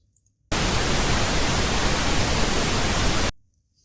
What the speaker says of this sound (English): So that's pink noise.